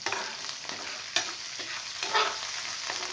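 Catfish curry being stir-fried in a pan, a steady close sizzle with repeated scraping stirs and small clinks running throughout.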